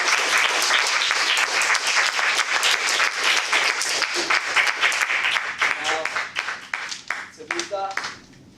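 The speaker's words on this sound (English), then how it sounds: "Please give them a round of applause." A Toastmasters club audience bursts into sustained applause for its evaluators, dense clapping filling the room and thinning toward the end, with scattered voices rising as it fades.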